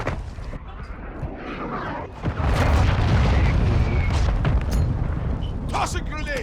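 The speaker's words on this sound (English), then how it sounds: "Hostile launched a cruise missile." A heavy boom of a cruise missile explosion in a video game, rising into a loud, sustained rumbling blast with crackling debris and scattered gunfire mixed in.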